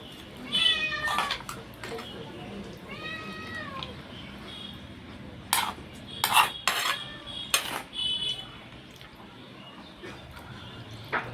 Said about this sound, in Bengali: এই বিড়ালটার না বড্ড সাহস, ভীষণ সাহস বিড়ালটার।